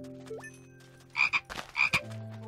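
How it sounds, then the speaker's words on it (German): A toad scorpion creature in the video game Jurassic World gives two pairs of loud, rasping croaks close up, layered over a steady game soundtrack hum. "das ist wieder so ein Krötenskorpion"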